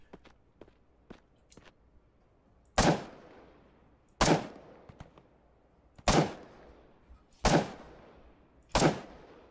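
Unsilenced gunfire in the video game Operation Harsh Doorstop: five loud, sharp single shots spaced about a second and a half apart, each with a booming tail, after a stretch of faint clicks and footsteps.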